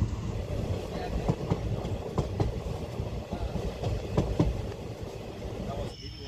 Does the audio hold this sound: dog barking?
no